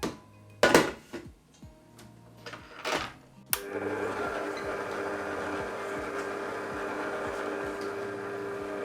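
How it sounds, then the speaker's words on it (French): A stand mixer kneads brioche-style dough with fresh baker's yeast at first speed: after a few clattering knocks, a steady motor hum with a rhythmic thumping churn begins and runs on evenly. "c'est parti pour un premier pétrissage de 8 minutes en première vitesse."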